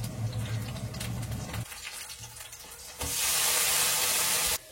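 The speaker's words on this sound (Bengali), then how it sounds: "তো এদিকে ভাজাটা হতে থাক" Food frying in a pan in a home kitchen, a steady hiss and sizzle that drops back and then surges into a louder, brighter hiss before cutting off abruptly.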